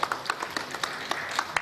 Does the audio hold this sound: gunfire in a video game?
no